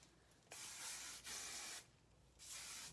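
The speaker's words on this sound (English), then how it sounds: "Spray a little bit of spray on it." Hairspray hisses onto styled hair in three separate bursts, each about half a second long, close and clear against a quiet room.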